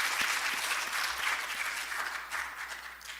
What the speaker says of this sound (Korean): 오늘도 이렇게 아름다운 찬양을 들려주신 우리 시온 코러스 여러분께 우리 감사의 박수 한번